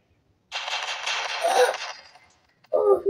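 Firecrackers set off outdoors, giving a sustained crackling burst of rapid explosions lasting over a second, then a short pause before another loud crackle starts.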